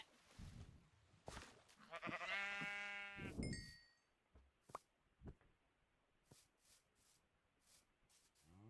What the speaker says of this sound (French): On va tuer tous les moutons